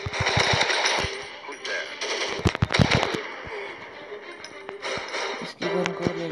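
Gunfire in the Special Forces 3D game, with loud rapid automatic bursts and single shots cracking in quick clusters, then sparser shots later, mixed with game sounds and someone talking at times.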